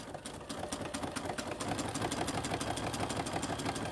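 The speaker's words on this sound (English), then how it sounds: "So we're just gonna sew along there." A sewing machine stitching the hem of a tote bag hums in a fast, even rhythmic whir, close and moderately loud, running continuously after a brief start.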